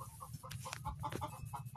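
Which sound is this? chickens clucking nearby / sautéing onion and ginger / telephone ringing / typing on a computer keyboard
chickens clucking nearby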